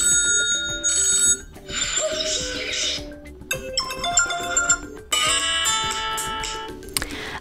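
Several different Honor 7C phone ringtones play one after another, each a short burst of bright electronic chiming or ringing, with brief gaps between them.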